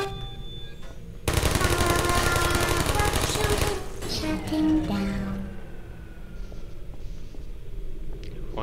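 Turret gunfire in the video game Portal, a loud dense burst of rapid automatic shots lasting a few seconds, followed by quieter clanks and electronic tones.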